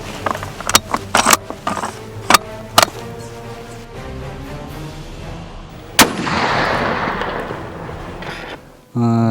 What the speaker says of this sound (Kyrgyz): Бирден ок атууга кириш.